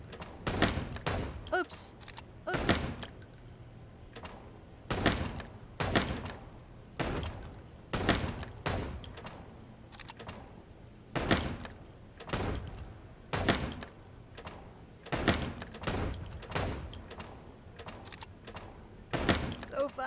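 Repeated gunfire from a shooting mini game in the video game Chicken Police, with sharp shots at an uneven, steady pace over about twenty seconds and a voice talking now and then between them.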